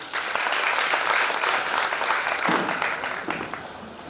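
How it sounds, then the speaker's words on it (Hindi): Loud applause from a crowd at a yajna workers' training camp at the Gayatri Shaktipeeth in Jhansi, a dense steady clatter of clapping that slowly thins toward the end. "एक बार जोरदार तालियां"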